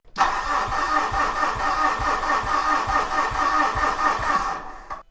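Starter motor cranking a Fuso 4P10 truck diesel engine that has a slow-crank, no-start fault, a loud, close, rhythmic churning with regular low pulses for about five seconds before cutting off abruptly, with no voices over it.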